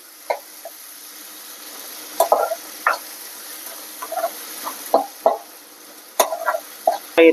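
Onions fry in a pan with sparse, irregular crackles and sharp pops over a quiet low hiss, some bursts clustering into quick little runs of spatter.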